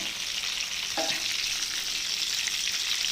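Tiger prawns for a Kerala-style prawn fry sizzle and crackle steadily in hot oil, a close, continuous frying hiss with one brief stir-like clatter and no talking.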